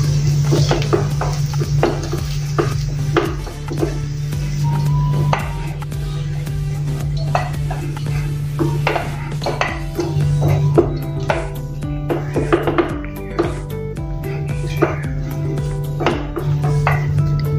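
Potato samosa stuffing mixed in a metal pan, with irregular scraping and clinking of a spoon against the pan over a low steady hum from the stove.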